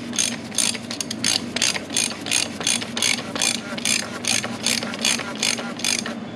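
Ratchet wrench snugging down the oil filter cap on a Ford F-150 with the 2.7 EcoBoost, a close, steady run of rapid clicking pawl strokes in even rhythm with no talk.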